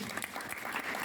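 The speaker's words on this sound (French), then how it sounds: "On peut applaudir," Audience applause after a Bible quiz competition, a brief dense burst of many hands clapping together in a hall, close and sustained.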